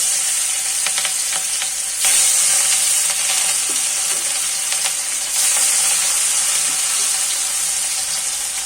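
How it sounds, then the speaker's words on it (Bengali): Loud, close sizzling of snakehead fish frying in hot oil, a continuous crackle that flares up sharply twice as more fish goes into the pan. "ভাজার জন্য মাছগুলো ছেড়ে দিচ্ছি।"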